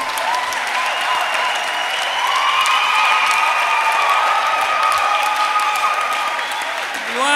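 A church congregation applauds steadily throughout, a dense, continuous wash of clapping that stays loud and even from start to finish, with a few cheers rising in the room.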